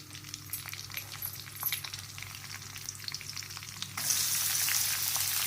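Cumin seeds fry in hot oil in a kadhai with a steady crackling sizzle that swells suddenly louder and hisses continuously for the last stretch, no talking.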